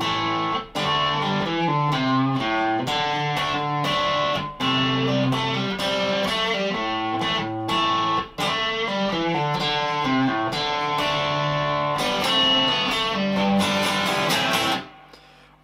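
A distorted electric guitar plays the intro riff of a song with layered effects, steady and loud throughout, with a few brief breaks before stopping near the end.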